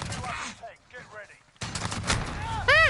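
Sniper rifle fire rings out in the Call of Duty: Modern Warfare video game: a sharp, loud burst cuts in partway through and is followed by ringing game effects, with a voice heard faintly around it.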